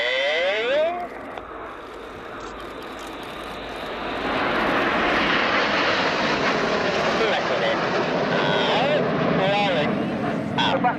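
Red Arrows BAE Hawk T1 jets roar through a Royal Air Force flying display at RIAT 2017, the jet noise starting distant and building to a loud, sustained close pass, with faint crowd voices and commentary beneath.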